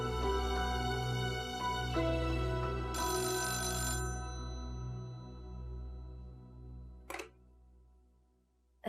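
A landline telephone rings after being dialed, bright repeated ring bursts over a low steady hum, then a short final chirp before it fades.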